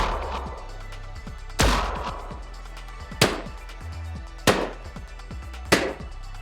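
Gunshot samples from a weapon system in Unreal with Wwise, pitch and order randomized: four sharp, loud single shots go off about a second or more apart over a steady low background.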